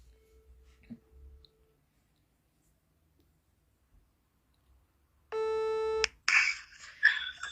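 One long electronic telephone ringback tone sounds while calling someone back, after near silence and a faint click, then gives way to handling rustle and faint voices.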